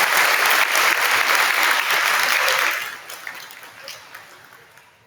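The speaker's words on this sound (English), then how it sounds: "let's give all these students who received the Bulldog Label another round of applause" Audience at a kindergarten awards program breaks into a loud round of applause for the students, dense at first, then fading over the last couple of seconds into scattered claps.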